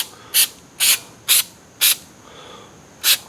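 Anti-corrosive lubricant hisses from an aerosol can onto the front brakes of a 2005 Honda Accord in six short, sharp sprays at an even, quick rhythm, close to the microphone.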